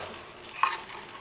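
Hot oil in a pan being tested before frying unniyappam, giving a soft, brief sizzle with a single faint splash-like crackle against a quiet background.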